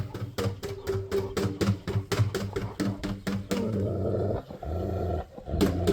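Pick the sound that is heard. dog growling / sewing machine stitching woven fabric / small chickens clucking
dog growling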